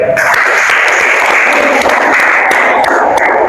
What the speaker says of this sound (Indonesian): beri aplaus untuk kelompok ketiga